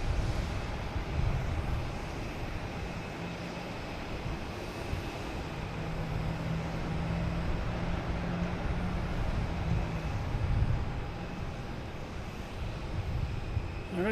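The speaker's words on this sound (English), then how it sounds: "All right, we have a Delta taking off, heading to Norfolk" A Delta airliner takes off at Boston Logan airport, a distant, steady jet roar that swells slightly and holds over a windy outdoor background, with no talk.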